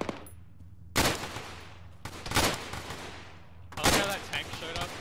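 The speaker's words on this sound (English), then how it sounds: "Now shoot the EI around the wreck." Gunfire in a military shooter video game, with three loud bursts of shots about a second apart, each trailing off into a long rumbling echo, while voices talk underneath.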